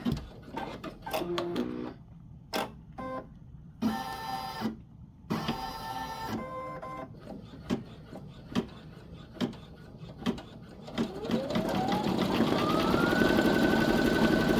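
Baby Lock Flare embroidery machine set below full speed, stitching through two or three layers of vinyl in a hoop. Close, stop-start bursts of rapid mechanical clatter, then a rising whine as the motor speeds up and runs steadily.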